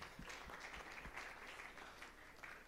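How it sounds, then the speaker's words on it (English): An audience at a book festival claps in a steady, faint patter of applause that runs throughout without any voices. "A round of applause for Mr. Uche"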